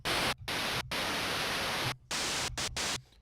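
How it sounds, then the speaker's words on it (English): NES sound chip noise channel hissing like TV static in loud, steady bursts, broken by a few short silent gaps. "It'll sound like TV static."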